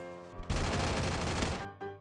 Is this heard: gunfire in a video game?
yes